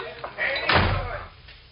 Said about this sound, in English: Barney, shut the door